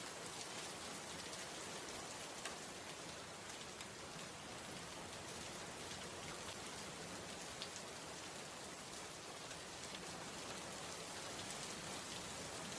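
Steady, dense rain falling in a village during the monsoon, a continuous even hiss that fills the scene with no pauses and no voices.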